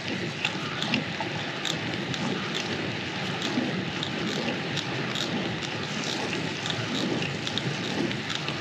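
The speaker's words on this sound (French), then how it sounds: "C'est une petite pluie fine, mais on sent bien sa présence." Light fine rain heard while riding a bicycle before dawn on a commute, a steady hiss with wind rush and rolling noise, continuous and even with no voices.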